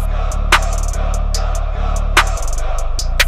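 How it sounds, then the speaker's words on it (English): A bass line in a hip-hop beat built from a Carnival sample: deep sustained bass notes that change pitch every second or so, under crisp percussive hits falling at a steady rhythm, loud and close. "And I added this other bass over here, it sounds like this."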